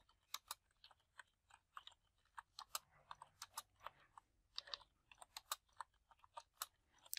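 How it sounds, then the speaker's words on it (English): Rapid, irregular clicking of computer keyboard keys, quiet and close, with short pauses between bursts of typing. "So I can go ahead and now do the normal typing."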